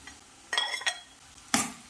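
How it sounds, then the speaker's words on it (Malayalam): Shallots and green chillies sauté in a pan over medium flame for okra pachadi, a faint sizzle with three quick, close stirring scrapes. "ഇനി നമ്മൾ അരിഞ്ഞു വെച്ചിരിക്കുന്ന ചുവന്നുള്ളിയും പച്ചമുളകും ചേർത്ത് ഗോൾഡൻ കളർ ആകുന്നത് വരെ വഴറ്റിയെടുക്കണം"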